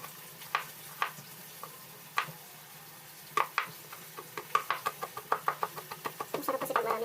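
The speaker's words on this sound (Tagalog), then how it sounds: "hiwa na tayo ng ating bawang" A knife chops garlic on a cutting board, with sparse knocks at first that quicken into a steady run of close, crisp cuts, while faint frying sizzles in the background.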